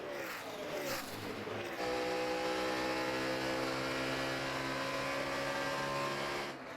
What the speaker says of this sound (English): It looks like Jimmy's car is a little bit better this run